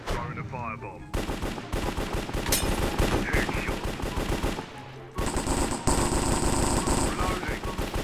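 Rapid bursts of automatic gunfire crackle in a Minecraft game, coming in several loud strings with brief pauses between them.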